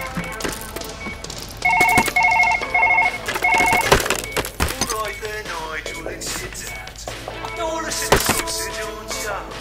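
A telephone rings in the Surgeon Simulator game, its bright electronic ring pulsing in a few short bursts alongside clattering game sounds while someone talks.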